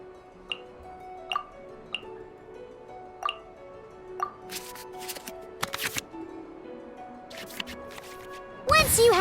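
Cards get shuffled back into the draw pile in the Genshin Impact card game, a series of short, crisp flicks and swishes spaced a second or so apart, followed by a brighter cluster of chimes near the end.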